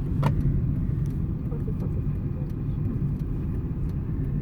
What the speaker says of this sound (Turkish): Burada Kasiste evet fren yapıyoruz.